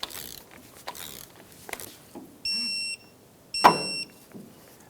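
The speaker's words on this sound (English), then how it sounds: "We're going to torque the axle nut to 20 foot-pounds." Axle nut being torqued on the front left CV axle of a 2007-2017 Ford Expedition: faint mechanical clicks and rattles, then two short, clear electronic beeps close by in a quiet workshop.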